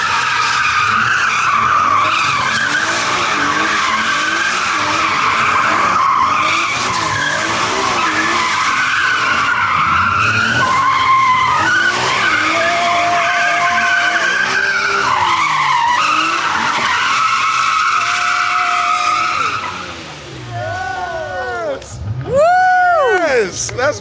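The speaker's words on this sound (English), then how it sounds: "it came in doing donuts" An Acura NSX doing donuts, tires skidding and squealing continuously over a loud engine for about twenty seconds, ending in a few sharp rising squeals; voices talk over it.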